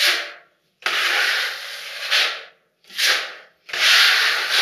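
A 45 or 25 cm smoothing blade drags filler across a ceiling in four long, loud scraping sweeps, each separated by a brief pause as the blade lifts.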